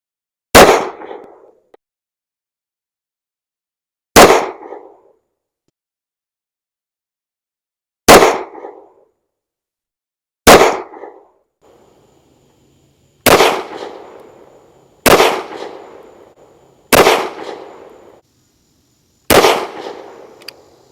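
230 grain Federal HST rounds are fired from 1911 pistols, a Rock Island and a Tisas, in eight sharp single shots spaced a few seconds apart, each loud and close with a short ringing decay.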